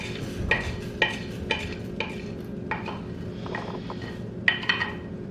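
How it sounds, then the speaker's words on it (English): Whole spices and coriander seeds dry-roasting in a pan for Kadai Sabzi, with a spoon scraping and stirring in repeated close clicks over a faint low rustle. "I'll dry roast all the whole spices."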